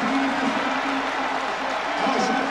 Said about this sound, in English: Great reception from this French crowd.